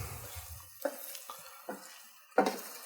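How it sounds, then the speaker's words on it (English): Lemon orzo with peas and lemon zest is stirred in a pot, giving a few soft scraping and knocking strokes of a spoon spaced irregularly over a faint background, close by. "Now I'm going to stir this well to combine."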